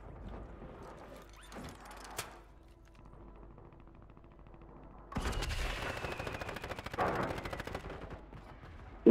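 Gunfire in Call of Duty: Warzone, sparse distant shots and clicks that give way to a sustained burst of rapid automatic fire, loud and close, with no voices.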